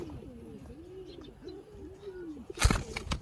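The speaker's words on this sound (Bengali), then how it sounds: "এই হলো মাদি কবুতরটা খুবই ছটফট একটা কবুতর" A female pigeon, restless and fidgety, coos softly nearby in a series of rolling, repeated calls, followed near the end by a short burst of loud rustling and wing flapping.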